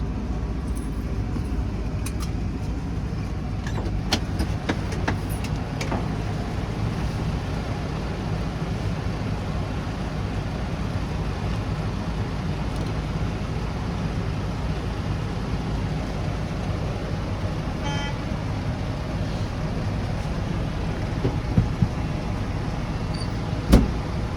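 A Class B truck runs steadily inside the cab during a pre-trip brake torque test, the engine's low, even drone holding against the applied service and parking brakes, with a few faint clicks and rattles.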